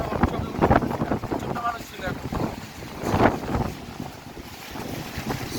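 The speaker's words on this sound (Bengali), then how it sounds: "খুবই বাতাস ছিল, প্রচণ্ড বৃষ্টি ছিল" Strong wind sweeps over Himchori hill in rainy, stormy weather, buffeting the microphone with a loud, continuous roar that swells in gusts; faint voices may sit underneath.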